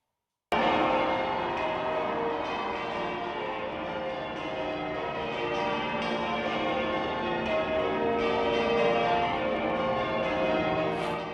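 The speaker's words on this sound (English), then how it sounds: "as St Paul's bells rang out" Church bells of St Paul's Cathedral in London peal continuously during a Jubilee celebration, a dense, ringing wash of overlapping strikes that starts abruptly and stays loud throughout.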